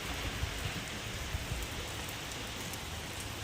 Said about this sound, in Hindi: देखो बारिश आ गई एकदम तय।